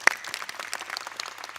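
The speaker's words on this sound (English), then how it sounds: "Can we clap for him?" An audience applauding at a shareholders' annual general meeting, a short burst of scattered clapping that rises after one sharp clap, moderately close and fading quickly.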